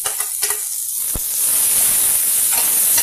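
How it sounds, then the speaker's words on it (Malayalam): Shredded cabbage hits hot oil for a homemade veg momo filling, first a few clinks, then a steady close hiss and sizzle building and holding to the end. "എണ്ണ ഒഴിച്ച് ഇനി നമുക്ക് ക്യാബേജ് വഴറ്റാനിടാം."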